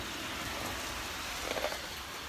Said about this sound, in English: woke up this morning to it raining.